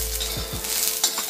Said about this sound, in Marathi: अजून पुन्हा अगदी थोडं तेल घालून हा कांदा पुन्हा थोडा परतवून घ्यायचा